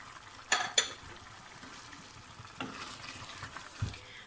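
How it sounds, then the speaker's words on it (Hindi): Round gourds (tinda) stir-fry in a pan over a medium flame, a faint low sizzle broken by a few sharp spatula scrapes and clinks against the pan, no voices. "और टिंडों को भी 5 से 7 मिनट अच्छे से भून लेते हैं।"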